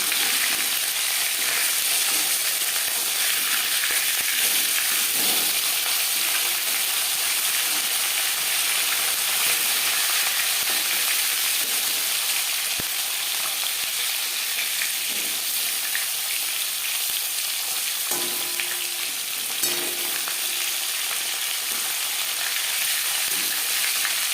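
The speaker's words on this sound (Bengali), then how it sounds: "একটা সাইজ ভাজা হয়ে গেলে অপর সাইজটা উল্টে দেবো" Latha fish sizzles in a pan of oil in a steady, bright crackle that lasts the whole time, close up and without pause, with occasional faint clinks and no one talking.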